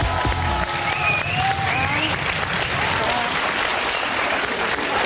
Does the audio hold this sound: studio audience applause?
yes